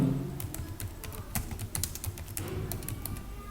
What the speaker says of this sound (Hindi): अब मैं यहाँ कुछ लिखाई करता हूँ। मैं एक नाम लिखता हूँ